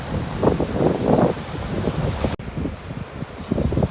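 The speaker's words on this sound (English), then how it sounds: "A little windy out here, I'm sure you hear that" Blustery wind rumbles loudly against the microphone outdoors in The Gambia, surging in gusts with a brief dip midway before roaring again.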